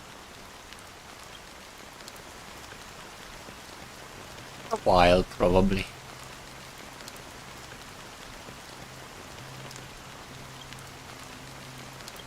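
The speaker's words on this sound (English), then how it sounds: "how long has this rain been going on for?" Steady rain pours in Honkai: Star Rail, an even, continuous hiss throughout, briefly broken by a short spoken reply midway.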